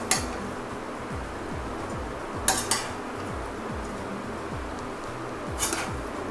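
Mutton karahi rice being mixed in a pot, with a steady scraping and stirring of a utensil through the rice and occasional sharp metallic clinks of the spoon against the pot, close and moderately loud.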